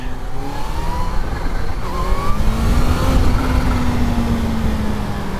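A supercharged Kawasaki Z H2 motorcycle accelerates hard in second gear for a power wheelie, its engine note rising steadily and loudly over continuous wind roar, heard close from the rider's position.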